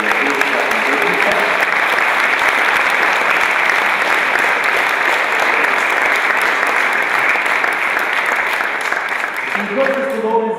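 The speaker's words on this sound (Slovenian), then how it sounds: "Še en aplavz prosim za Anjo Drnovšek in Neca Dregonja" Sustained audience applause fills a celebration ceremony for Slovenian Sign Language Day, dense, loud and steady for the whole stretch.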